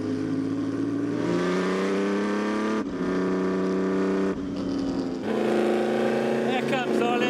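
A Formula 1 car at Silverstone: a loud, high-pitched engine whine that climbs steadily, breaks off briefly at each upshift, and climbs again as the car gains speed.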